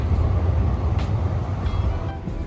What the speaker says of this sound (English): Oh look, it's a train.